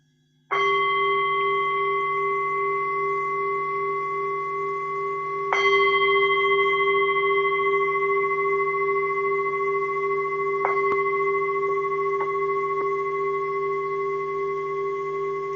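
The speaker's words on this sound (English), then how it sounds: "I will just sound the bell and you can get started with our meditation practice" A meditation bell is struck and rings out in long sustained tones, struck again a few seconds later, with clear shimmering overtones decaying slowly in a quiet room.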